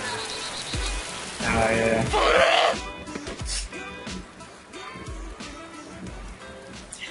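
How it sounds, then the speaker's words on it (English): Steady rain falls in the video game DayZ, a continuous broadband hiss with a loud surge partway through, heard under a man's brief speech. "I'm gonna turn down the freaking rain."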